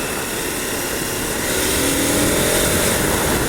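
A 2024 KTM 1290 motorcycle engine roars loud and close as a steady, broadband rush of engine and wind noise that builds slightly in level, with no talking.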